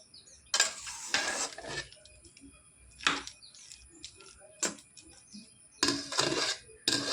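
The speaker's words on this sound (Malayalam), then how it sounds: "നമുക്കത് കപ്പ നല്ലപോലെ ഒന്ന് ഇളക്കി കൂട്ടാം" Cooked tapioca (kappa) is stirred in a metal pot with a spoon, producing several separate bursts of scraping and clanking with short quiet gaps between them, close and fairly loud.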